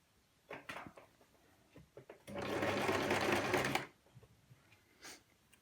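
A sewing machine stitches skirt fabric in one loud, steady burst of rapid needle clatter lasting about a second and a half. Quiet handling noises and a soft voice come before and after it.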